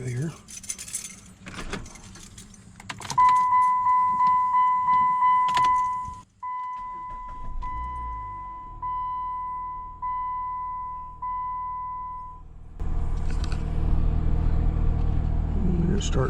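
Chrysler PT Cruiser being started after a key jangle and chime: the starter cranks, the engine catches and settles into a steady low idle rumble, close by and continuous, with a warning tone sounding for a stretch.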